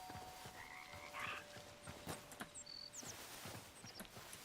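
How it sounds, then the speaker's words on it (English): Frog croaks sound in the video game Hytale, a few short close calls set against a busy ambient bed of chirps and rustling, with no voices. "Frog!"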